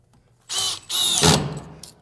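A power drill drives screws into drywall along a bottom plate: two close, loud bursts of high whirring, a short one and then a longer one, with silence before them.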